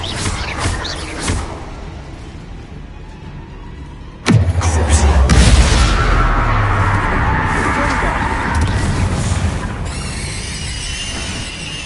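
Confringo fire spell in Hogwarts Legacy: after a few quieter clicks, a sudden loud blast erupts and rolls on as a roaring, crackling wash with a screeching edge, gradually thinning out.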